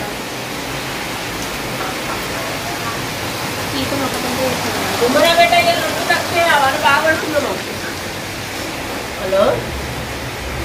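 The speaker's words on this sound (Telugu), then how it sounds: "అప్పుడే కొంచెం ఇంత వాన పడుతుంది" Rain falls as a constant, even hiss close by, with a person speaking briefly over it partway through and faint clattering now and then.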